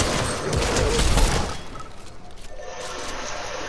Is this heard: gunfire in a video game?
yes